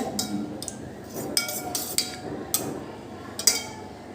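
Two eggs being mixed with salt in a pot with a metal utensil, giving a handful of sharp, distinct clinks and taps against the pot, spaced unevenly over a few seconds, with no voices.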